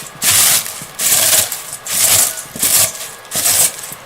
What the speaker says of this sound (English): Kind of crush them up a little bit.